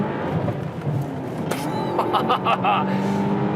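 A car accelerating hard from 50 km/h as the driver floors the throttle, its engine droning loudly and rising in pitch over steady road noise, with a voice talking underneath.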